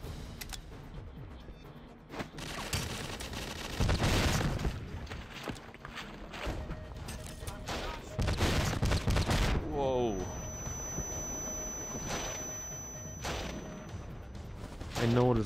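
Gunfire from the GoldenEye Wii video game crackles through a busy multiplayer match, with bursts and shots at varying distance, scattered footstep-like sounds, and a voice talking over much of it.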